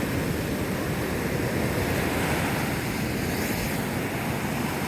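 Ocean waves on Navarre Beach after sunset, a steady loud wash of surf with constant rushing noise and some wind, no voices.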